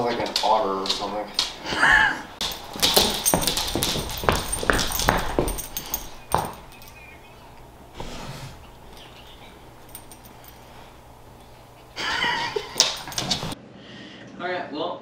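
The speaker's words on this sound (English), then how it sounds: "Such an odd dog." A dog whimpers and snorts in short, irregular bursts, with snuffling and occasional thumps nearby, then quieter pauses between the sounds.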